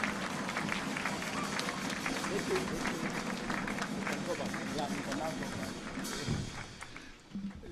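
An audience at a Technical University of Kenya graduation ceremony claps for the installation of the vice chancellor, a dense, sustained patter of many hands that thins toward the end, with voices audible over it.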